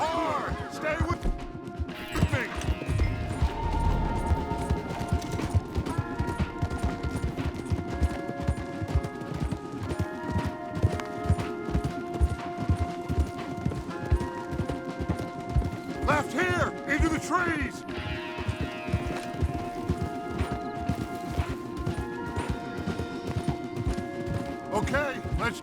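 Horse hooves pound in a fast, continuous galloping rhythm alongside creaking tack and rattling in Red Dead Redemption 2, with voices speaking at times over the hoofbeats.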